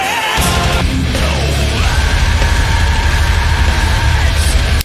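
A vocalist lets out an extreme metal scream, one loud, sustained, harsh yell that runs almost five seconds over heavy distorted band backing before cutting off abruptly.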